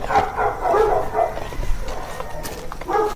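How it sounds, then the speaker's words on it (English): A dog at night gives a run of loud wavering howls and whimpering yips, close and sustained with short breaks, sounding almost like crying. "Dog howls can be heard resembling the crying"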